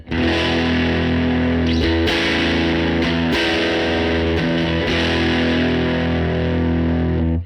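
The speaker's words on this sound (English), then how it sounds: "you can just play a real nice big chord and you get that classic Fender sound" A big, sustained electric guitar chord rings out through a Fender Tone Master Pro amp model with a warm, slightly distorted Fender tone, strummed a few times and left to sustain without any talking.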